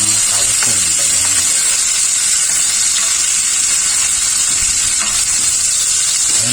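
Garlic, onion and tomato sautéing in a pan for chop suey, a loud, steady sizzle with hissing steam running the whole time, and a few soft stirring scrapes mixed in.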